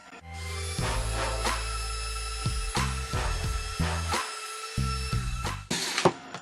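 A power drill fitted with a 1.5mm bit bores into a wooden clock base, whirring in several bursts with short pauses and clicks between them, close and alone.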